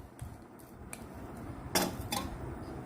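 A few sharp clinks and scrapes of a spoon against a big bowl while hung curd is mixed for a cold sandwich filling, sparse and fairly quiet with soft pauses between strokes.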